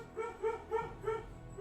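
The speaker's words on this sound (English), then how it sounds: "sorry about the barking, guys." A dog gives a quick series of four short, muffled yips or barks in a steady rhythm, a little distant and fairly faint.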